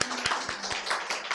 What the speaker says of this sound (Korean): 우리 박수 한번 모두 다 쳐줄까요?